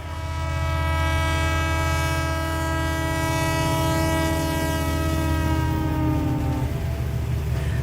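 An express train starts to pull out from a station platform: a loud, sustained horn-like tone rides over a constant heavy rumble for about eight seconds and fades slightly at the end, with no voices.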